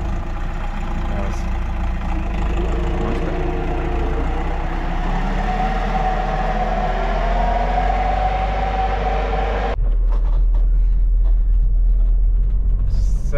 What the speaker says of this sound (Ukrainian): а трактор ще залишається, буде підживлювати малинку